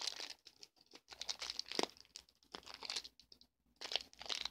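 A plastic blind bag package with no tear tabs is crinkled and pulled at in short bursts of crumpling and tearing, close by and fairly quiet, with brief pauses between efforts.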